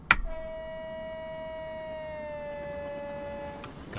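A train horn in a train simulator game blows one sustained, steady tone for several seconds, with a sharp click at the start and end and no talking.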